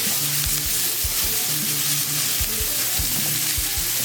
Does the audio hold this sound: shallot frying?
yes